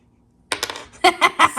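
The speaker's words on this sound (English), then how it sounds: "Do you want to roll the dice?" A small die rattles and clatters as a young child rolls it, quick light clicks after a brief silence, then several sharp bouncing taps close by.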